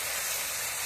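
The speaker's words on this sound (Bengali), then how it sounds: "দিয়ে ভালো করে কষিয়ে নেব" Spice paste with green chilies sautéing in hot oil for a hilsa fish curry, a steady close hiss and sizzle that holds even and loud throughout.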